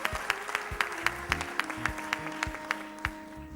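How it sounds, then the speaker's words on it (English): A small audience at a marketing panel discussion claps for Henry, a sparse, uneven patter of individual hand claps, close and distinct, over a faint steady hum. "Big round of applause to Henry"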